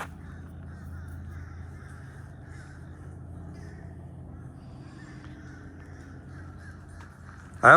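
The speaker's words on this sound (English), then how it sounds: "You hear those birds?" Crows caw repeatedly at a distance over a steady low engine hum, with a sudden loud thump right at the end.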